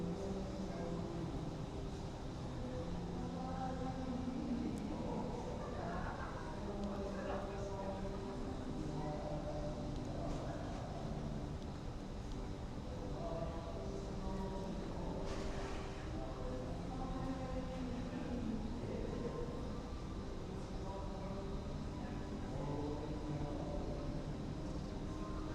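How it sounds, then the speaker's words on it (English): Train rolling past on a Tokyo street, a steady dense rumble with rhythmic tonal wheel and track sounds over continuous city background, fairly close and sustained throughout, with some voice-like activity mixed in. "now we're going to wait for another train to go by"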